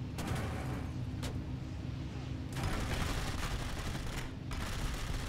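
Rapid gunfire rattles from a bomber's rear gunners in the air-combat game War Thunder, forming a dense, loud, continuous barrage with several sharper bursts layered over it.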